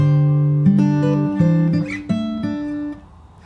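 Fingerstyle acoustic guitar plays a phrase from a song from Aladdin, with plucked melody notes over changing bass notes in a steady, close, unaccompanied passage.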